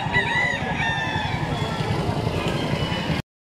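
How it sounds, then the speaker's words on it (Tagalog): A rooster in a gamefowl yard crows loudly and close, its drawn-out call rising over a busy outdoor background with clucking hens, people talking and passing vehicles. "Beautiful chicken."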